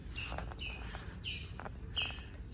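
Birds chirp outdoors at a Goa island resort: several short bursts of high tweets repeat at irregular intervals, fairly faint, over a soft background hush.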